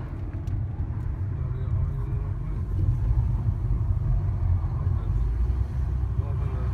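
A car drives along a slushy, swampy road, its engine a steady low rumble with wet road noise that holds at close range throughout; people talk over it.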